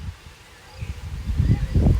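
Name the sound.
gusty west-southwest wind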